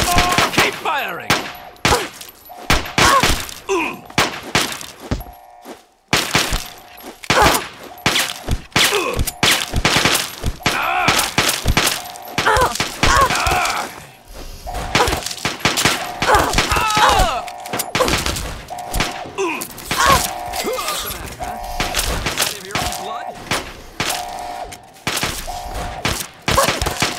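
Sustained gunfire in Fallout 3 on PC, dense bursts of shots and heavy impacts repeating across the whole stretch, loud and close, with shouting voices breaking in between volleys.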